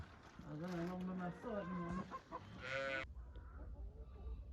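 Chickens cluck and squawk in a close, busy burst that ends abruptly, followed by quieter farmyard background noise.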